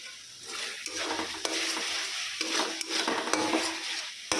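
Rice frying dry in a pan with a little oil. A continuous bright sizzle is broken by repeated scraping strokes of a spoon stirring against the pan, close and even, with no talking.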